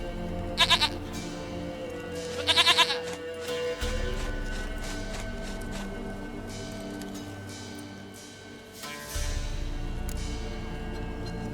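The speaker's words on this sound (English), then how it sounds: "Goat of mine, dearest," Goat in The Witcher 3 video game bleating twice in quick, wavering calls near the start, followed by low rumbling ambience and rustling that continues under the rest of the scene.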